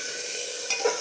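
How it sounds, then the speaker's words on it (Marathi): Onion, tomato and peas fry and sizzle in a pan, a steady close hiss with a couple of brief stirring scrapes near the end. "कांदा टोमॅटो भाजतोय, वाटाणा पण त्यासोबत भाजून घेऊया."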